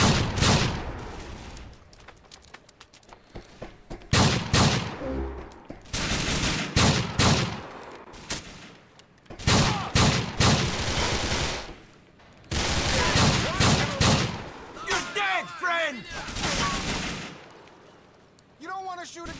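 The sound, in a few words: gunfire in Grand Theft Auto 4 video game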